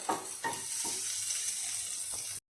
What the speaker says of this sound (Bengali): আরও একটু তেল লাগবে পেঁয়াজগুলো ভাজার জন্য